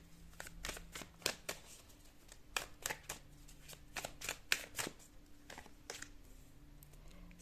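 Tarot cards are shuffled by hand in quick, crisp bursts of riffling and snapping, close and fairly quiet, repeating irregularly with short gaps and no voices.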